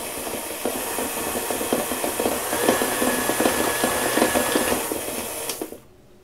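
Cake batter for an Italian cream cake being beaten by an electric mixer, a steady whirring drone with rhythmic scraping knocks against the bowl that stops abruptly at the end.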